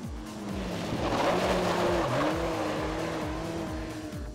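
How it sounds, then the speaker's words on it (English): Ed Pink Ford Midget race car on a slick track, a loud engine revving with rising and falling pitch as it accelerates and shifts, with a hint of tire squeal, continuous and close. "Philippa taking to the track in the brand new Radio Hauraki Ed Pink Ford Midget"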